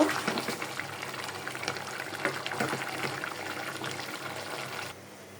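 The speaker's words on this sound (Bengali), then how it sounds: "আমি আর একটু পানি দিয়ে দিলাম" Water splashes and gushes steadily into a cooking pot of pangas fish and potato curry for about five seconds, close and fairly loud, then cuts off abruptly.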